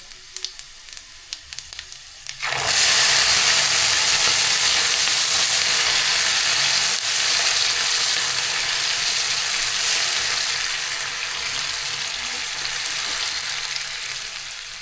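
A hot tempering for Lakshmi charu, a South Indian rasam, bursts into loud, steady sizzling after a couple of seconds of quiet, clattering handling, then crackles on continuously and fades only slightly.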